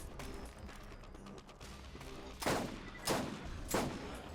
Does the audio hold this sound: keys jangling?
no